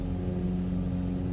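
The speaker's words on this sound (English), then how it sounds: "No, it's the noise of the engines." Aircraft engine noise in Microsoft Flight Simulator 2020 during a multiplayer bush flight over the Alps, a constant loud low droning hum with steady tonal layers and no break, sounding very close.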